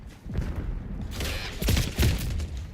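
Frag grenade going off in a Call of Duty Black Ops 6 multiplayer match, a couple of thumping, booming blasts amid scattered gunfire, moderately loud and a little distant.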